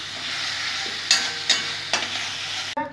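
Spice masala for papaya chicken stir-fried in a pan, with a steady sizzle broken by a few sharp spoon scrapes and a clack near the end.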